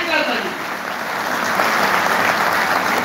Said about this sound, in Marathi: मी माझ्या तमाम कामगार बांधवांना एक विनंती करतो की जोरदार टाळ्या होऊ द्या आपल्या महाराष्ट्रासाठी